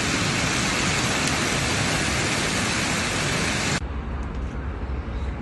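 Dense hail pelting down with strong wind, a loud steady roaring hiss that abruptly drops to a softer wash near the end.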